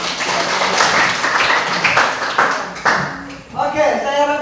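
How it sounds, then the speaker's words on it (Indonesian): Classroom applause from students, a burst of hand clapping lasting several seconds that fades out as a voice begins speaking. "Berikan tepuk tangan untuk."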